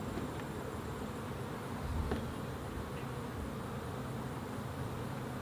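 Bees swarm around an opened beehive during a comb inspection, a faint, steady buzzing drone that carries on without a break and with no voices over it.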